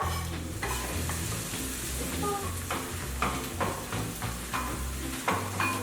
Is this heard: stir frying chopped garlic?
yes